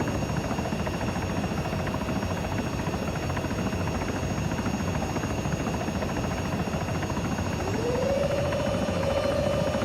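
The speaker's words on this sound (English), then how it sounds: "Bring the helicopter into a nice hover." A helicopter hovers in the ArmA 3 combat game, a steady droning rotor and engine roar that holds even throughout, with a rising whine coming in near the end.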